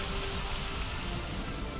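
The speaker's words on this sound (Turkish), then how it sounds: "kuru toprağı canlandıran yağmur" Steady rain falls on dry ground as a dense, even hiss of drops, moderately quiet and unbroken, with no voices.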